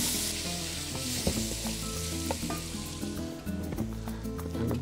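Chicken shawarma sizzling loudly in a pan as it is stirred and turned, with a dense hiss broken by repeated scrapes and clatters of the utensil, and no speech over it.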